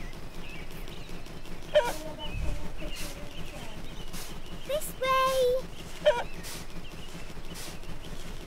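Fowl cluck and honk in short repeated calls on a cartoon farm, scattered over a few seconds against a light background bed, with brief thumps between calls.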